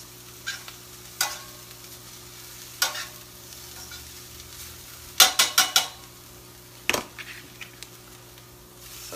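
Vegetables stirred in a frying pan while preparing a spaghetti squash dish, a few scraping strokes and a quick run of clattering utensil hits over a soft sizzle, close and fairly quiet, with no voices.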